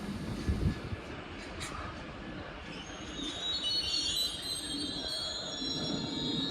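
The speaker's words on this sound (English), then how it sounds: "The train now approaching platform 7 does not stop here." A non-stopping train passing through platform 7 at Watford Junction, a continuous rumble of wheels on rails with high metallic squealing rising in the second half, no voices.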